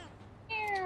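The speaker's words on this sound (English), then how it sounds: "Alright, the cat looks very weak, it seems to be hungry." A single short cat meow from the video game Persona 3 Reload, clear and close, following a brief quiet moment.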